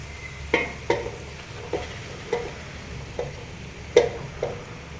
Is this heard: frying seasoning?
yes